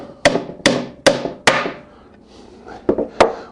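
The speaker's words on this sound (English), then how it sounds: "I'm going to start installing my dowel pins." Sharp wooden knocks of a hammer driving Miller dowel pins into the corners of a clamped wooden box: four evenly spaced strikes, a short pause, then a few more blows, close and loud with no talking.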